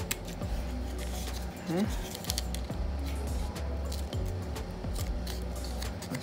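Scissors cutting paper into acorn shapes: repeated soft snips and crisp paper slicing close by, under a woman's quiet speech.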